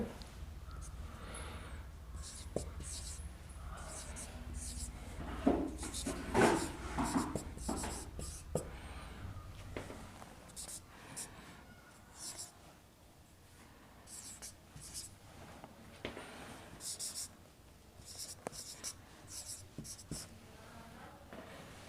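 Numbers are written by hand, a pen or chalk scratching and tapping in short, quiet strokes throughout, faint and close, with a low hum in the first half.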